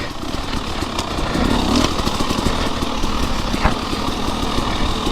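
A motorcycle engine drones steadily and loudly throughout a spring ride, with wind rush mixed in and no pauses.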